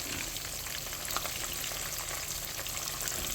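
Catfish fillets fry in hot oil with a dense, continuous crackle and spatter, close and fairly even throughout, with no voices.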